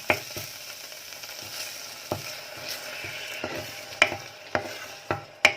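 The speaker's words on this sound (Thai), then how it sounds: "เราก็ใส่น้ำกะทิที่ส่วนที่เหลือลงไปได้เลยนะคะ" Coconut milk hitting frying curry paste in a pan for a mushroom and pickled bamboo shoot curry, a close steady sizzle broken by a few sharp clinks and scrapes of a utensil against the pan.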